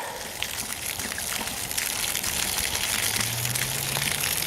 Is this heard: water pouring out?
yes